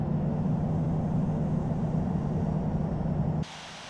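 Airbus A380 in Qatar Airways livery taxiing to the runway in the Infinite Flight simulator, a steady low jet engine drone with hiss, heard alone and constant until it drops off sharply near the end.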